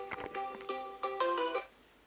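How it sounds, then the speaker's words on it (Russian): A phone ringtone plays a short melodic electronic tune of several tonal notes, clear and fairly close, with no talk over it. "Кто-то звонит."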